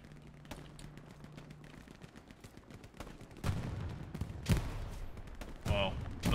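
Gunfire in a Hell Let Loose battle at Stalingrad: scattered shots and bursts, faint at first and then louder and denser, with voices on team radio over the firing.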